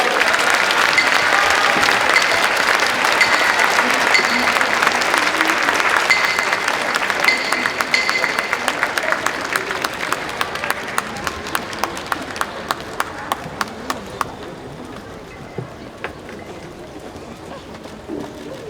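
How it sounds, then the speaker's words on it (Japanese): Crowd applause welcomes the retiring sumo wrestler Akiseyama at his hair-cutting retirement ceremony, dense and sustained at first, then thinning into scattered individual claps and fading out, with faint talk underneath. "皆様大きな拍手でお迎えください。"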